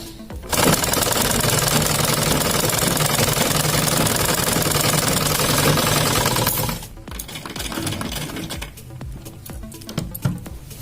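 A sewing machine stitches a kurti in a steady, loud, continuous whirring run that stops abruptly, followed by quieter intermittent machine sounds and handling.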